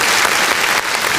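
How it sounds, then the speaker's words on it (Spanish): A talk show audience breaks into clapping for a guest: a brief, loud, dense burst of applause that dips slightly near the end. "Vamos a darle un aplauso a mi invitado del viernes desde hoy."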